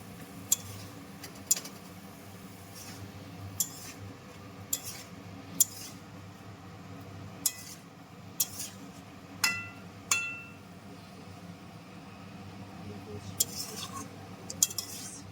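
A metal utensil stirring chela fish with spices, potatoes, pumpkin and peas in a pan gives sparse, sharp clinks and scrapes at irregular intervals over a faint steady background hum.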